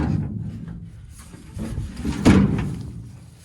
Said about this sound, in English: Our bumper tailgate works. It's a little sticky.